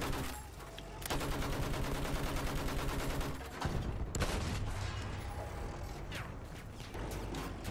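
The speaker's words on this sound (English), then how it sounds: "He's shooting me." Rapid enemy gunfire in Battlefield 1 multiplayer, sustained volleys of shots that rattle continuously for several seconds, with a brief break before the firing resumes, fairly quiet overall.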